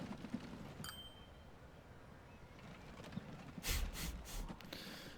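Hooves of a horse-drawn vehicle clop in the Transport Fever 2 game, a soft, distant-sounding trotting rhythm set against a quiet ambient background, with a few brighter rattling sounds near the end.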